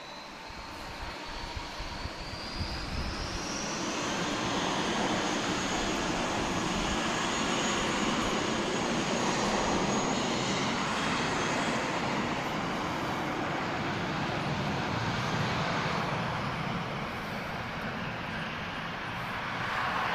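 Airbus A320 jet airliner engines roaring loudly and steadily at Lisbon Airport, a broad rumbling whoosh with a rising whine that builds and then holds as the plane passes.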